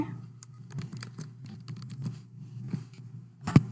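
Rapid, irregular key clicks from typing on a computer keyboard while logging into a school web portal, close and steady over a low background hum, ending with a sharper knock.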